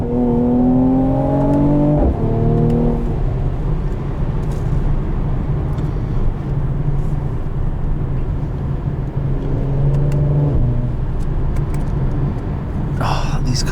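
A 2021 Mercedes-Benz C43 AMG engine revs up toward the red line, rising in pitch, dropping after a gear change, then climbing again, heard loud from inside the cabin.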